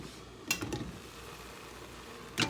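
About a pound of onions frying and caramelizing in a pan give a soft steady sizzle, broken by a few louder stirring scrapes at the start and near the end.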